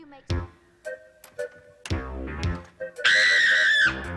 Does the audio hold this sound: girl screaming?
yes